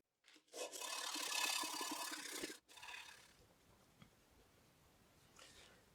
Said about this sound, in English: I'm just going to go ahead and sand these two areas down a little bit.